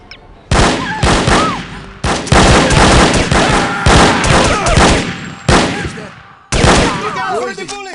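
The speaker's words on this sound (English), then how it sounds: "Look out for the bullets!" Gunfire in the video game No One Lives Forever: loud, dense bursts of automatic shots and impacts rolling almost continuously, with brief gaps between volleys and game sounds mixed in.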